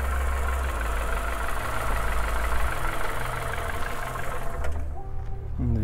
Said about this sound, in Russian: Двигатель классно работает.